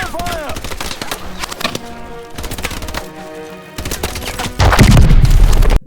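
Rapid bursts of futuristic gunfire from Call of Duty Advanced Warfare, loud and close, crackling in repeated volleys with booms, building to a heavy sustained barrage at the end, with no talk over it.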